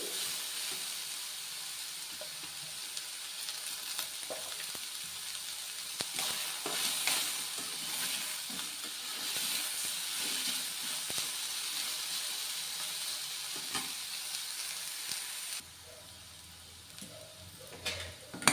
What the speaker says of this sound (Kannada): ಇದಕ್ಕೆ ಎಷ್ಟು ಬೇಕಷ್ಟು ಎಣ್ಣೆ ಹಾಕ್ಕೊಂಡು ಚೆನ್ನಾಗಿ ಫ್ರೈ ಮಾಡ್ಕೊಳ್ಳಿ.